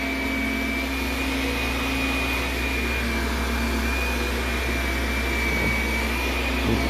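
A carpet-cleaning vacuum pulls suction in a loud, constant roar with a steady whistling tone riding on top, unbroken from start to finish and with no one talking.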